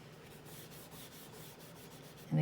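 A blending stump rubs on sketchbook paper with a soft, steady scratchy sound in short strokes, close and quiet, ending with a brief louder knock.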